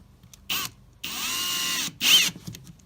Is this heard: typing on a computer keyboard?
no